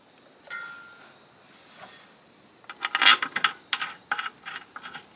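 Bolts and a nut with washer being fitted by hand while reassembling a Coolpower box, heard as a burst of close metallic clinks, ratcheting and small rattles after a quieter stretch of faint rubbing, no talk.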